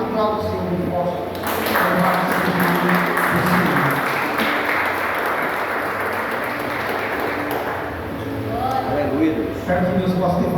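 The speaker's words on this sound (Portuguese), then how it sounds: "Aplauda o Senhor muito forte." Church congregation applauding loudly during a worship service, a dense sustained wash of clapping that runs steadily through the whole stretch, with some voices mixed in.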